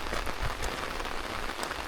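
Steady, dense rain pours down during a storm at Big Ugly Creek, West Virginia, a close, even hiss of drops striking surfaces with no voices.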